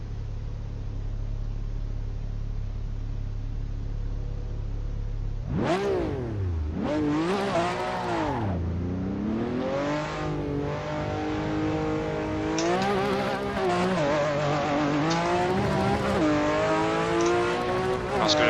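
A Porsche race car in a sim racing video game sits at a low steady hum, then roars to life, revving hard through rising and falling gear changes with sharp shifts, loud and close.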